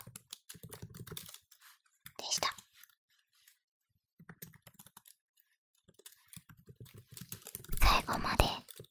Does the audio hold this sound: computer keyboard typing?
yes